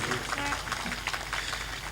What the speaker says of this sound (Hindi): ताली बजाइए, अभिनंदन करिए।